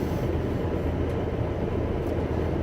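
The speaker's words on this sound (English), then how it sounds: "If I'm just driving in the drone of silence and road noise without the radio, kind of like I am right now" Steady broadband road noise fills a moving vehicle with no radio playing, a loud, even droning rumble of tires and engine that continues throughout with no talk.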